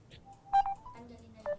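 A cellphone dials out to a village captain: a few short electronic keypad beeps in a quiet setting, clear and close, with no talking.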